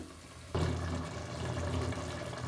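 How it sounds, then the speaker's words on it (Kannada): A glass of water is poured into a pan of peas and potato sagu, starting abruptly and continuing as a steady, close splashing gush. "ನೋಡಿ ಇವಾಗ ಒಂದು ಗ್ಲಾಸಷ್ಟು ನೀರು ಹಾಕಿದ್ದೀನಿ ನಾನು."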